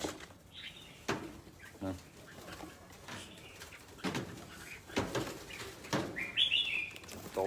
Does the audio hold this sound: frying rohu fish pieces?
no